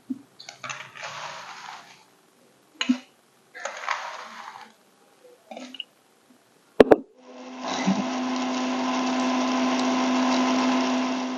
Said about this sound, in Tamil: இதை நான் இப்ப மிக்சியில போட்டு கொஞ்சம் கொஞ்சமா அரைச்சு